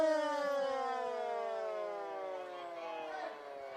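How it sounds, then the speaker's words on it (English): At a high school football stadium a civil defense siren wails alone, loud and sustained, its pitch slowly sliding downward across several seconds. "The siren just went off."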